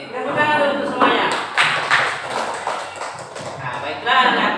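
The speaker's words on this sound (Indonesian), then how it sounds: "tepuk tangan dulu untuk semuanya" Students in a school classroom applaud together, a steady burst of many hands clapping at close range that swells and fades in waves over several seconds.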